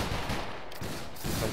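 Musket volley fire in the video game Battle Grounds III, a massed line of black-powder muskets going off together as a rolling, crackling burst, loud and dense, then repeating again after a short lull.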